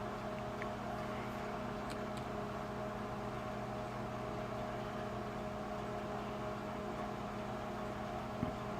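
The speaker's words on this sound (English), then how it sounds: "That machine you hear running in the background is my microwave oven." A steady, droning hum of a running microwave oven, constant and unchanging throughout, with no voices.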